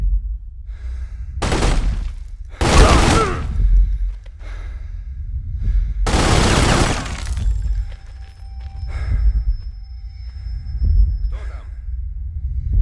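Loud bursts of Kalashnikov assault rifle fire in The Godfather II game, three separate volleys of rapid shots, with quieter pauses between them.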